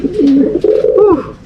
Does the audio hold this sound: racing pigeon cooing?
yes